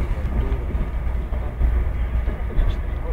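An EVS1 Sapsan high-speed electric train runs at high speed, around 250 km/h, heard from on board as a loud, steady, deep rumble and roar of motor and rails that swells slightly and continues without a break.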